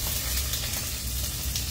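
Onions sizzle steadily in hot oil in a pan for a stir-fry, with a close, continuous crackle and no talking.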